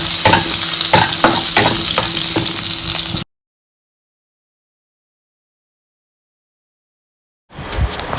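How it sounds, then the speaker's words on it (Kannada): Garlic fries in about two spoons of coconut oil in a pan, a loud close crackling sizzle with stirring scrapes, cut off by a long silence before the sizzle briefly returns. "ಒಂಜಿ ಪ್ಯಾನ್ಗೆ ಕೊಕೊನಟ್ ಆಯಿಲ್ ಪಾಡ್ದೆ ಒಂಜಿ 2 ಸ್ಪೂನ್ ದಾತು ಐಕ್ ಒಂತೆ ಬೆಳ್ಳುಳ್ಳಿ ಪಾಡ್ದು ಫ್ರೈ ಮಲ್ಪೋಡು"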